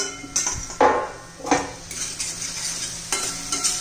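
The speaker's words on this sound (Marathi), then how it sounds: "हे पहा आता झाकण काढून घेऊया." Metal pot lid lifted off a pan of cooking garlicky chickpea-leaf greens, giving a few sharp clinks and scrapes over a soft sizzle.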